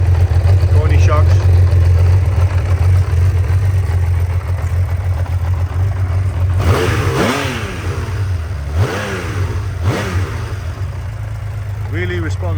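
A Honda CBX1000Z motorcycle engine idles steadily up close, then is blipped several times into sharp revs that rise and fall, with someone talking over it.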